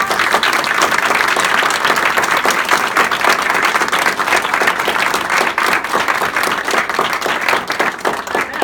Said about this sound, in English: let's give our folks from HOYA one great big more round of applause